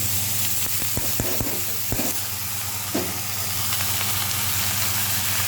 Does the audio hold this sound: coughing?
no